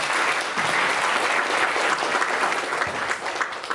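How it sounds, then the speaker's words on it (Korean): At a policy forum on industrial technology protection, the audience welcomes the president of the Industrial Security Research Society with sustained, close applause that stays dense and even for several seconds before thinning slightly at the end. "여러분 큰 박수로 맞아주시면 감사하겠습니다."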